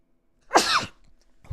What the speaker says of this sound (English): Yeah, I got to sneeze.